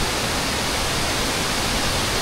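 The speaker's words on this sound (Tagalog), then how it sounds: "malakas yung bukso ng tubig" Steady, dense rushing water fills the clip, a loud broadband roar with no pauses, like a powerful waterfall heard up close.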